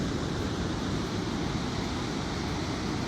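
Ocean waves on a rocky stretch of Tallow Beach on the central coast make a dense, steady roar of surf with no breaks, loud and constant, with no voices.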